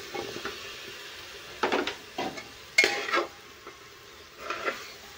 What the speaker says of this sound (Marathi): आता टाकणार आहे आपण आपल्या बटाट्याच्या फोडी